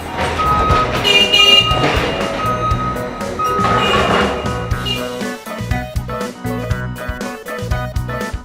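A semi-truck reverses while being loaded with apples at an apple fruit factory, with repeated high reversing beeps over a steady engine rumble and busy background sound.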